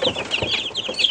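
A young chick, about eighteen days old, peeps in shrill, rapid chirps as it is caught by hand, close and loud over a short burst with slight rustling.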